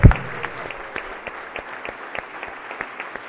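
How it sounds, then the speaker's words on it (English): A small group on a state senate floor claps steadily, close-up rhythmic applause that thins out over a few seconds, with no talking. "Let's give him a round of applause."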